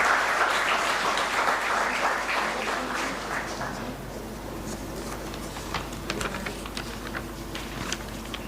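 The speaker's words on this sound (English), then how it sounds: "Give them a big applause to welcome them." An audience at an investiture ceremony applauds as sponsors are welcomed on stage. The clapping is strong at first, then thins to scattered claps that fade over several seconds.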